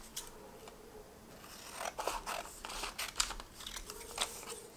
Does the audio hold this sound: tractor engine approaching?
no